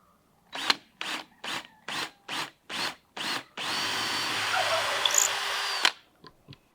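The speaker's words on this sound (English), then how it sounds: "the first order of business is to drill a hole at the top of the first metal ring of the bucket" A drill starts in eight short bursts, then runs steadily for a couple of seconds as the bit bores into the top metal ring of a metal bucket, before a few faint taps.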